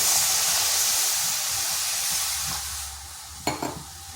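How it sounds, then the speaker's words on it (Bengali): Steady sizzling hiss from a hot pan as roasted semolina and milk are stirred into a dough, with faint scraping stir strokes and a brief clatter near the end; no voices. "এটাকে এইভাবে নেড়ে নেড়ে একটা ডো তৈরি করে নেব"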